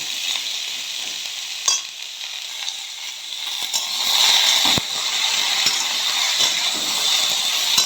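Potatoes frying in a pan over a raised gas flame for potato chachchori, tomato soon joining them: a steady, bright sizzle running throughout, with occasional stirring clinks and a louder crackle in the second half.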